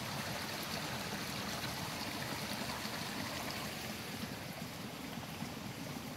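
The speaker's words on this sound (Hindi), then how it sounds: "पानी की आवाज़ कितनी मधुर आ रही है।" A forest stream in the Himalayan hills of Uttarakhand flows with a steady, quiet babble and trickle, continuous and alone with no voices.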